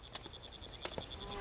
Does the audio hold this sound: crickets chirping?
yes